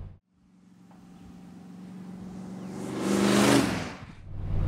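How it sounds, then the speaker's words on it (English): A muscle car engine with glasspack mufflers and exhaust exiting just before the rear wheels rumbles and revs up, the deep exhaust note growing louder and harsher before easing off briefly and climbing again. "The exhaust actually exited just before the rear wheels, and they were noisy as hell"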